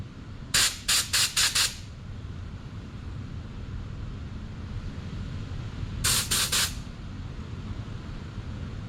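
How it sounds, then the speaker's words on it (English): Compressed air blasts through the carburetor jets of a Kawasaki ZX11 Ninja motorcycle: four quick, sharp hissing bursts, a pause over low background rumble, then three more bursts close by. "we'll just see if a bit of compressed air will clear them out"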